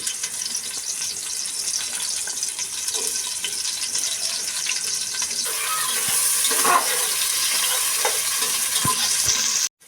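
Chopped onions frying in hot rice oil in a pot for beef biryani, a steady loud sizzle with stirring scrapes that grows denser and brighter halfway through, no voices.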